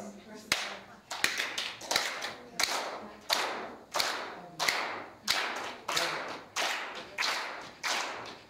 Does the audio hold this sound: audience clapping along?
yes